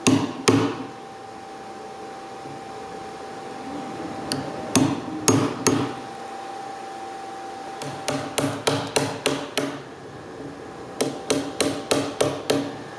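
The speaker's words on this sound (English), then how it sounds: "Now it's time to chisel out where the latch is going to sit." Hammer striking a chisel to cut a latch recess into a door edge: sharp, close wooden knocks, single blows at first, then quick runs of five or six evenly spaced strikes, alone with no talking.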